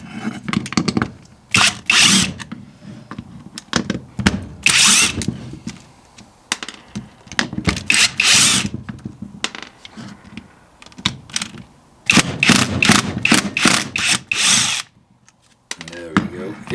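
Power screwdriver backing screws out of a Bosch PST 650 jigsaw during a teardown, with repeated loud whirring bursts separated by short pauses, up close.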